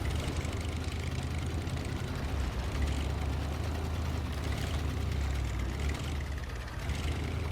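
A scout vehicle idles in the SnowRunner video game, a continuous low engine drone with a broad rumbling hum that stays steady and fairly loud throughout, with no voices.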